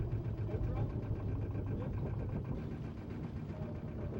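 A boat engine throttled down to idle during a sailing lesson near a dock, a steady low rumbling drone heard close up, with a voice talking over it.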